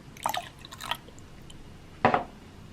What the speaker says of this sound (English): Next, I'm going to add the water.